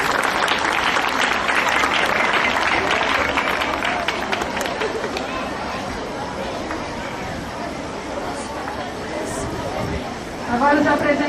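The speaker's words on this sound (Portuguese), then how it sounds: "Uma palmas para a comunidade Adorai." Applause from a congregation at a parish Bible walk, a burst of clapping and crowd chatter that fades down into speech from the announcer, with murmuring around.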